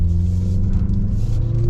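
A 2023 Mazda CX-50 pulls hard on sand, its engine giving a steady, loud low drone and rumble that rises slightly in pitch as it accelerates, with no voices over it.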